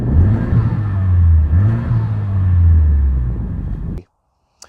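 A Honda Civic Type R exhaust revs steadily with a low, droning rumble that rises and falls over about four seconds, then cuts off abruptly into near silence.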